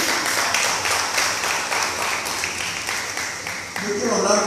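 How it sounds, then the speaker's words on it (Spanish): Congregation clapping together in a church, a steady dense patter of many hands filling the room from start to finish, with a voice speaking briefly near the end. "Él es fuerte, palmas al Señor."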